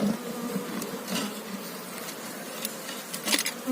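Steady, dense buzzing of many honeybees close by at a beehive being prepared for winter, a continuous drone with occasional brief louder passes.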